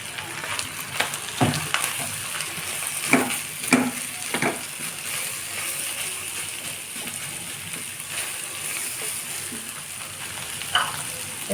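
Chopped onion frying in a pan for chow mein: a steady, close sizzle with occasional sharper crackles and spatter pops, running continuously without speech.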